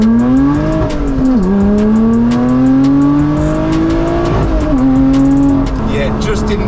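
A supercharged Lotus Exige accelerates hard through the gears, the engine roaring and rising in pitch with short dips at each gear change, loud and close, with supercharger whine on top and a voice talking over it.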